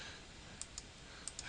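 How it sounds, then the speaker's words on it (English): A computer mouse clicks a handful of times, quiet, sharp and close, in two loose pairs and a final trio spaced across a soft background hiss with no talking. "Clicking it a couple of times."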